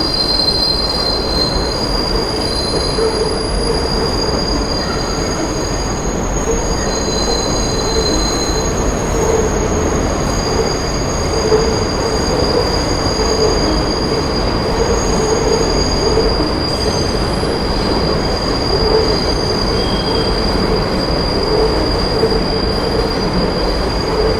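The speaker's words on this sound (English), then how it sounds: "The subway's right next to it too." A New York City subway train rumbles past nearby in Long Island City, Queens, its wheels squealing in a steady high-pitched whine over continuous loud rail noise for the whole stretch, with no talk.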